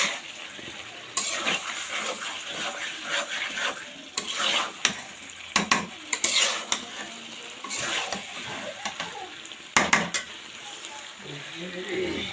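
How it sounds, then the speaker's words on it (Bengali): Potatoes with chicken gizzard and liver stir-fried in a pan, heard close up as a steady sizzle broken by repeated bursts of scraping, clattering stirring, with no talking. "সুন্দর করে কষাই নিয়েছি।"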